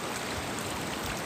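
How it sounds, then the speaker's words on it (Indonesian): Floodwater from a flash flood pouring down a river channel toward houses in Kiraman village, South Alor, heard as a continuous, loud rushing wash of turbulent water with no voices. "Banjir aliran sungai yang turun ini pas turun menuju ke rumah."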